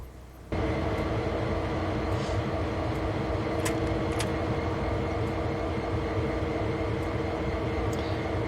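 Diesel locomotive in Train Sim World 2 on the 1970s Clinchfield railroad, a steady droning engine rumble that starts abruptly and holds, with occasional clanks and faint hisses.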